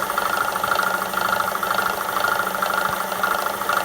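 Ridgid BS1400 band saw running with its pulley freewheeling on a shaft whose keyway is missing, giving a loud, steady mechanical hum with a rattling, vibrating drone throughout, no talking.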